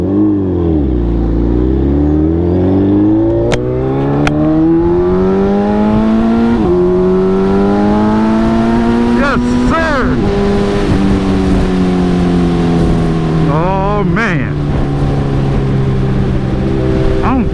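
A Suzuki Hayabusa motorcycle on a road ride, engine note climbing steadily through the gears with several shift breaks, loud and continuous up close under wind noise, with a voice speaking briefly at times.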